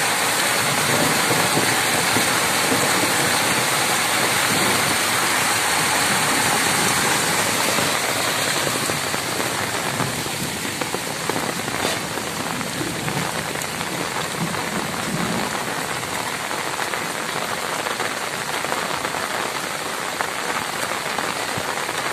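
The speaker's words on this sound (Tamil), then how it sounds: "இந்த கால்வாயில் பார்த்தீங்கன்னா வந்து எவ்வளோ தண்ணி போகுது பாருங்க" Heavy monsoon rain pours steadily in Vellore while floodwater rushes through a street canal, a dense, loud, unbroken hiss and roar lasting the whole stretch with no voices.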